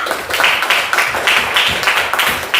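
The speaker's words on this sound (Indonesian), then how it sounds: "Oke, tepuk tangan untuk Karisa." A classroom of students claps for a classmate, a brisk, loud burst of many hands clapping close by.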